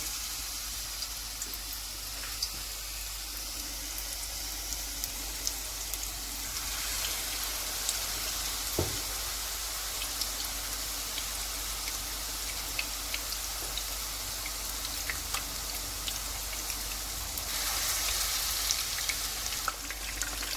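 Chicken malai kababs fry in a pan, giving a steady, dense sizzle and crackle throughout with a few sharper pops and no talking.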